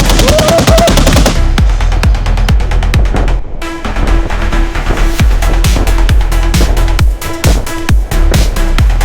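A BMPT Terminator fires its automatic grenade launchers in a loud, sustained stream of rapid heavy thumping shots, dense and continuous across the whole stretch with only a momentary break.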